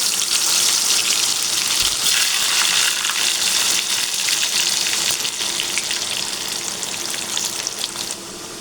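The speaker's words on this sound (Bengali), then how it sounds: "তেল গরম হয়ে গেলে দিয়ে দিচ্ছি ম্যারিনেট করা আলুগুলোর কিছুটা অংশ।" Marinated potato slices fry in hot oil in a wok, a loud, steady, close sizzle with bubbling hiss that barely changes over the whole stretch and eases slightly at the end.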